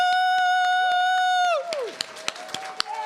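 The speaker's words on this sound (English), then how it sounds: "Can we please have a really big round of applause for Celeste Lecesne and Andrea Yay" Audience at a faculty book presentation bursts into loud applause and cheering after a long sustained whoop, with sharp individual claps popping out of the crowd noise.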